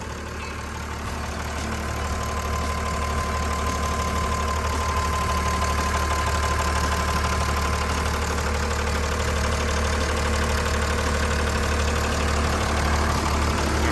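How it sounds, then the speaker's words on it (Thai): Komatsu 6D95L diesel engine on a WA200-3 wheel loader idling steadily nearby, a loud, even, knocking rumble that holds unchanged throughout. "ตัวนี้ลาดเครื่องของเขานะครับจะเป็นเครื่องยนต์คคมาสุ 6D 95L นะครับ"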